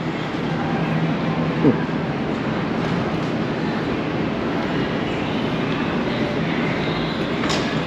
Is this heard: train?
yes